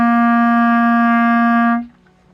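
A clarinet sounds a low C with three holes and the back thumb hole covered, one long steady tone held close and loud for almost two seconds, then cut off into silence.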